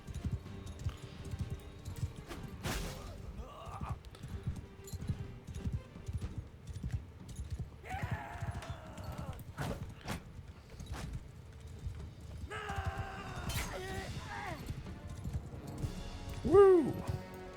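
Horse hooves clip-clopping in Mount & Blade 2 Bannerlord, a steady run of faint, even strikes under battle noise and occasional brief voices.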